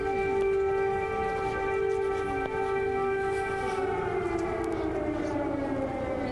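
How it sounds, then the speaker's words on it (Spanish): Air raid sirens wail in a steady, sustained tone that slowly slides downward, rising and falling faintly in the distance with no voices over them. "El sonido de las sirenas antiaéreas."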